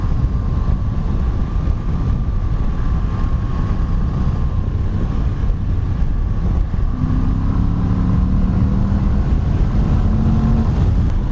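A Moto Guzzi V85 TT motorcycle engine hums steadily while riding, with heavy wind rush buffeting the microphone, and a low rising engine tone shifts partway through.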